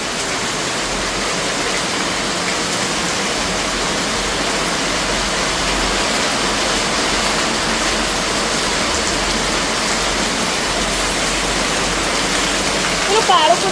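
Heavy rain pouring down in a sudden downpour, a loud, dense, unbroken hiss that stays steady for the whole stretch.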